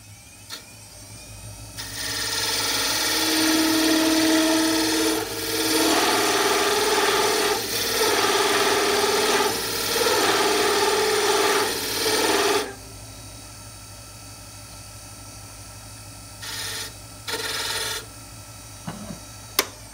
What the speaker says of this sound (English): I'm just going to go ahead and turn a tenon.